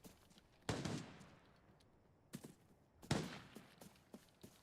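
Gunshots in a shooter video game, two fairly distant sharp reports about two seconds apart, each ringing out, with fainter thuds and clicks between and after.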